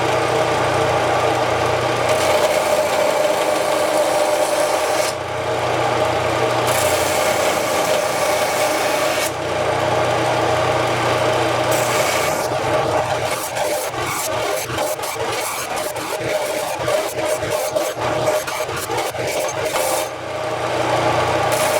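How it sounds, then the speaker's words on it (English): A belt sander grinds rust pits off an old axe head, a steady loud whirring rasp that cuts out and restarts several times, with a rougher chattering grind in the later stretch. "what I'm doing is using the belt sander, just to kind of smooth out some of the rust"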